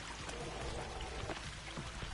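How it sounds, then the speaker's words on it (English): A small waterfall in the survival video game The Forest gives a steady, soft rushing pour, with no talking in this short stretch. "The little waterfall."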